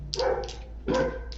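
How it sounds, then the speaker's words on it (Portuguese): A dog barks twice in the background, two short separate yelps about a second apart, moderately faint, with no voices over them. "Tem um cachorro latindo,"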